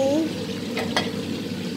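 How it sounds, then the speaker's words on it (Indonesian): Sausages stir-fried in a pan, a low, steady sizzle with a couple of short scraping stirs near the middle, brief and moderately quiet. "Ini tumis sosis."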